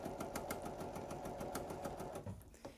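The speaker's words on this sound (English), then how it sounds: "and then just continue sewing" Sewing machine stitching a Christmas stocking, a steady rapid mechanical hum with regular needle clatter, close and continuous before slowing and stopping near the end.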